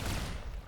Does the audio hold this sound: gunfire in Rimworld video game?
yes